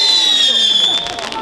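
A Piccadilly firework item fired at a Franconian fireworks preview, heard as a loud sustained whistling hiss with high tones that fades after about a second.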